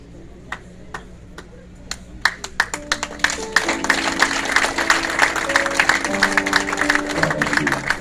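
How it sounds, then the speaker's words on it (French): After a few isolated claps, a crowd at a French-language evening worship gathering breaks into full, dense applause that builds and continues to the end, over a sustained musical tone in the background. "Encouragez aux applaudissements"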